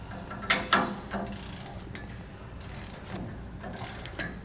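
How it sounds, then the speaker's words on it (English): A torque wrench ratchets in a few quick clicks, then lighter ticking, while U-bolt nuts on a trailer axle with idler hubs are tightened. Close and fairly quiet, with no talking. "Now we'll come back with our torque wrench here and torque all of our nuts down to the specifications listed from the manufacturer."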